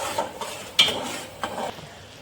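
Sugar syrup being stirred in a pan with food colouring added, for homemade urad dal jalebi: a few scraping, clinking strokes at a steady pace, fairly close and moderately quiet, with no talking.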